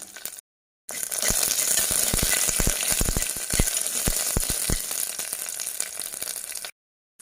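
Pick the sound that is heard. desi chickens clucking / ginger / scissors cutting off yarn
ginger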